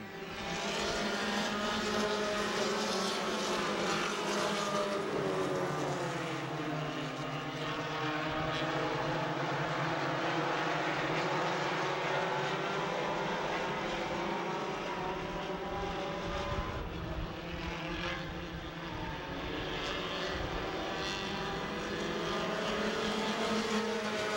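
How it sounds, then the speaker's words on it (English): Several loud race car engines drone and rise together in a dense, continuous roar at the start of a race at Kawartha Speedway, powering up at close range. "You hear those motors come up to full song, and we turn them loose with the green."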